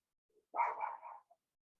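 One short burst of dog barking rises out of quiet during a calm guided meditation, fairly faint and alone, with no voices.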